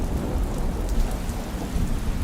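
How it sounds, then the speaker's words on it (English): Rain and thunder storm sound effect in a stage play: steady heavy rain hisses continuously while low thunder rumbles underneath, dense and loud with no voices. "Rain pours down, thunder roars, lightning splits the sky"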